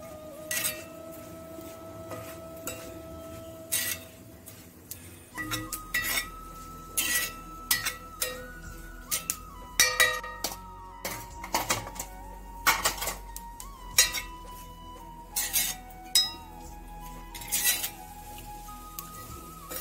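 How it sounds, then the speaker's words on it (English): A spoon stirs ground spice powder of roasted dal, coriander, fenugreek and byadgi chilli into fenugreek kuzhambu in a pot, giving repeated clinks and scrapes in an uneven rhythm over a faint steady background hum. "Give it a nice gentle mix."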